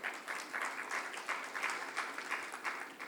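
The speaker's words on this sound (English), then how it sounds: "Let's all offer a round of applause for Mr. Pushpike Jayasundara as he comes onto the stage" An audience at a conference claps as a speaker comes onto the stage, a moderate, slightly rhythmic patter of hands at modest volume, with no voices.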